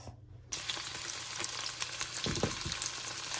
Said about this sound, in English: I'm not frying either of those things, but it's like I'm frying oil itself.